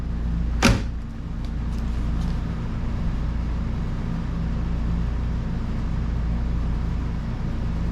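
A single sharp thud of a 1984 Bertone X1/9 car door shutting near the start, followed by a steady low engine or road hum.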